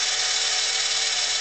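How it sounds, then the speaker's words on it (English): A cheap battery-powered toy chainsaw from a dollar store runs with a steady high-pitched electric whir and buzz, loud and close, with no break. "It's a toy chainsaw."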